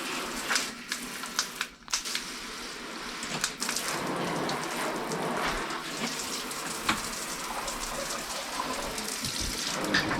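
Water runs steadily from a shower or tap during a leak check on PEX fittings in a bathroom renovation, making a continuous hiss with a few clunks near the start.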